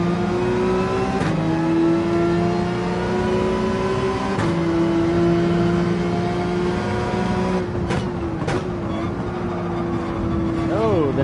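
A Porsche 911 engine in Gran Turismo 7 hums steadily and loudly through a lap of Dragon Trail, its pitch sliding as gears shift, with brief clicks and a voice talking over it at times.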